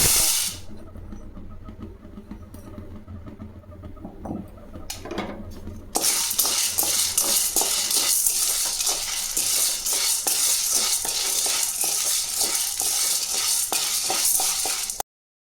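Dry maize kernels roast in a hot pan while being stirred, giving a steady loud hiss and rustling scrape that thickens into a dense, continuous crackle of grains shifting against the metal.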